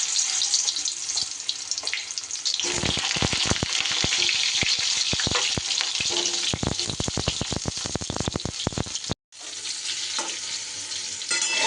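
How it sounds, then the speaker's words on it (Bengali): Pointed gourd pieces fry in hot salted mustard oil with a loud, dense crackling sizzle, broken by a rapid run of sharp clatters as pieces land and get moved, then a brief cut before the sizzle resumes. "এই তেলের মধ্যে দিয়ে দিচ্ছি একটু নুন, এবার পটলগুলো আমি ভেজে নেব।"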